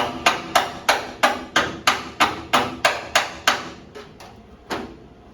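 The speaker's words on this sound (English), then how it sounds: "Use a hammer for a hammer." A steady series of sharp metallic hammer blows, about a dozen evenly spaced strikes, then a few slower final hits, loud and close.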